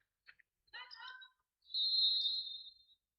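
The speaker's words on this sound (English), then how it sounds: "And whistle in a held ball." A referee's whistle blows one sustained, shrill blast to call a held ball during a varsity high school basketball game, preceded by brief chirpy squeaks and crowd noise in the gym.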